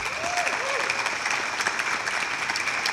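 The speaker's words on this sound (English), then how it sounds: "So can we give a big round of applause?" An audience at an NBA All-Star 2024 press conference claps continuously, a dense, even wash of applause, with a few whoops rising above it at the start.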